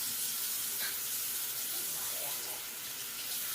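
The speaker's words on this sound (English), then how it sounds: "I'll turn off the water." Water runs steadily from a tap during hand washing, a continuous close hiss with faint voices underneath.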